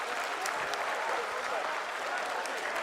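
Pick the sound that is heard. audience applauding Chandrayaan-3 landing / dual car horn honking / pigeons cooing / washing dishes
audience applauding Chandrayaan-3 landing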